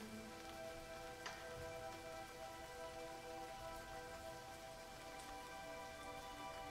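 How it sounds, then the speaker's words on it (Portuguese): Rain falls steadily in a soft, even patter on surfaces, faint and continuous with a few scattered drips, and no voices. "Essa chuva que está sendo levada para cada cantinho do nosso planeta."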